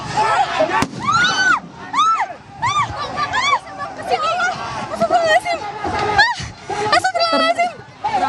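Fireworks thrown toward crowds of demonstrators at a street protest go off in sharp bursts and pops, with whistling crackles mixed into the noise of a shouting, chattering crowd.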